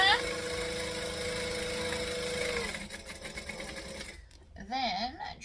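Sewing machine running steadily while top stitching the sides of a tote bag, a dense continuous mechanical whir for about four seconds, then stopping, followed by brief handling noise and a short voice.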